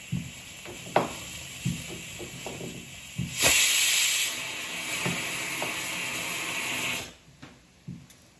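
A pressure cooker cooking chickpeas lets out a loud, steady hiss of steam for several seconds, with soft knocks and taps in the kitchen around it.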